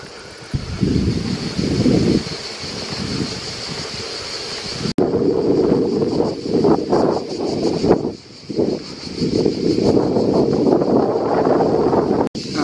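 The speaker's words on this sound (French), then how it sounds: "Et là, ben, j'ai du vent de cul, ça fait du bien." Wind rushing past a cyclist riding with a tailwind on a touring bike trip, a steady loud low roar with gusty swells and brief dips, no speech over it.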